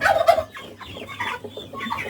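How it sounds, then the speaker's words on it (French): Broiler chickens on a small integrated mini farm clucking, with a few close, loud calls at the start and then softer, scattered clucks. "Là, nous avons les poulets de chair qui grandissent en parfaite harmonie."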